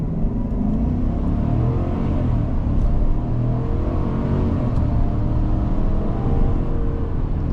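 A 2025 Chevy Silverado truck accelerating hard in sport mode, a loud, steady engine roar and deep rumble from inside the cab, building without a break.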